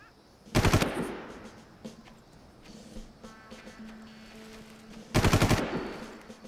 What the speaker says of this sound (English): Literally just covering fire here.